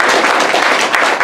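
Comedy club audience at an improv show applauding, a dense, steady wash of clapping that fills the short moment with no talk over it.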